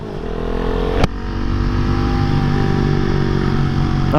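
A motorcycle is ridden at steady speed, its engine droning loudly and close with a brief sharp knock early on and no talking.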